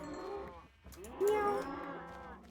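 Cows moo in Minecraft, two low drawn-out moos close together, the second louder and more strained, with no talk.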